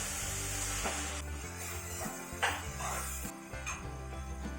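Green chillies and chopped tomato pieces tipped into a hot pan for a chicken curry, giving a steady close sizzle and frying hiss with clinks of a utensil against the pan and a few sharper scrapes, no talking.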